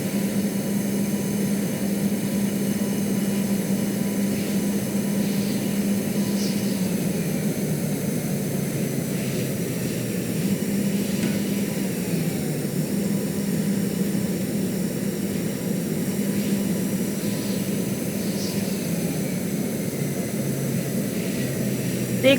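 Aircraft engine in the Stormworks flight game, a steady, loud continuous drone with a low hum whose pitch shifts slightly as throttle changes, running alone without talk throughout.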